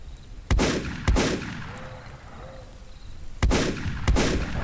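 Gunfire from weapons in the battle royale video game StreetRoyaleZ: four sharp, loud shots in two pairs with pauses between them, each ringing briefly with a short echo. No one speaks.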